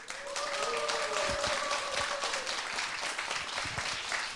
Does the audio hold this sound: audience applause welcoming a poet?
yes